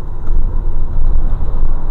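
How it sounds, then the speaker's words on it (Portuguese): A car passes on the BR 101 highway in Sergipe, a loud close rumbling road noise with tyre roar over damaged asphalt, sustained for two seconds without speech. "E aí onde tá passando o carro lá"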